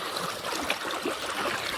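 Irrigation water streams into a groundnut field, a soft, steady trickle and gurgle, faint and continuous.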